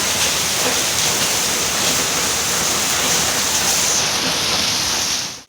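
Heavy monsoon rain pours down steadily over floodwater that has filled a building up to the second stair, a dense, continuous hiss and rush with no pauses, fading out sharply at the very end.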